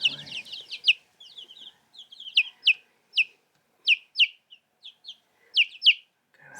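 Young farm chickens cluck and chirp in rapid, high-pitched bursts, close by and clear, with short pauses between the calls.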